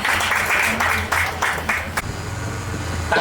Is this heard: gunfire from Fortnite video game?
no